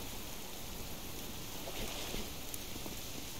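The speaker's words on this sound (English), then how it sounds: "Well, it's pouring rain." Pouring rain falls in the survival video game Subsistence, a dense, even hiss of heavy rainfall that runs steadily throughout with no pauses and only faint scattered drop sounds.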